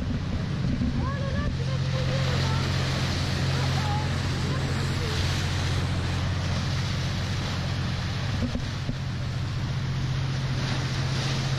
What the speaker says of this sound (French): Regarde les vagues.